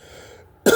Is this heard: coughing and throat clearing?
yes